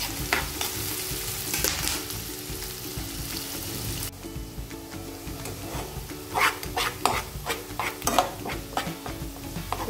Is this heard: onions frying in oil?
yes